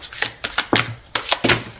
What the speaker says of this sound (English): I don't think I've ever had a deck this hard to shuffle before.